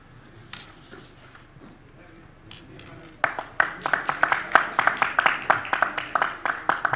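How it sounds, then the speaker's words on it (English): Audience applause at a Sagarmatha Sambaad parallel session, breaking out after a few quiet seconds into dense, steady clapping that carries on loudly to the end. "kindly give a big round of applause"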